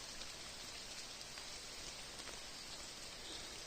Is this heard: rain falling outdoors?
yes